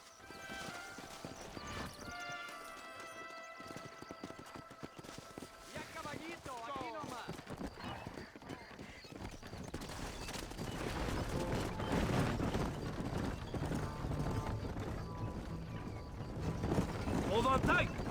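Horse hooves clip-clopping in the Red Dead Redemption video game, a steady rhythmic trot under game music and dialogue, growing louder and busier toward the end.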